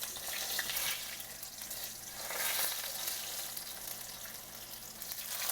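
Eggplant frying in a hot pan: a steady, close sizzle with crackling that swells and eases throughout, with no talking.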